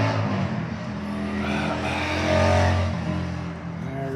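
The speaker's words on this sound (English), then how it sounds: "a motorcycle" A motorcycle passes by outside near a garden, its engine swelling to a loud peak mid-clip and then fading away over a steady background.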